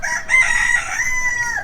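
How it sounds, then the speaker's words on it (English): Red hens of a breeding flock cluck while a rooster crows loudly and continuously nearby, the calls sustained across the whole moment with no talking. "and that's Luigi with his red hens."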